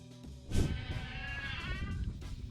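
Goats in a Bedouin herder's pen in the West Bank bleating, one clear wavering bleat up close with fainter animal sounds and outdoor noise around it.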